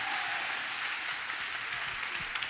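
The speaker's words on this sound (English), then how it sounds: "let's just give him one more clap offering" A church congregation claps together in a sustained, steady wash of applause that carries on for several seconds, close and fairly loud, with no talking over it.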